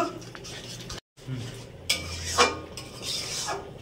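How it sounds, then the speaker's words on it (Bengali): A spoon stirring sugar into thickening milk in a pan for milk cake, soft scraping and scrapes against the pot with a faint simmer, one brief dropout near the start, no voices. "চিনিটা দিলে আবারও একটু পাতলা হয়ে যাবে, কিন্তু আবার আমি গাঢ় করে নেব। ভালো করে মিশিয়ে নেব।"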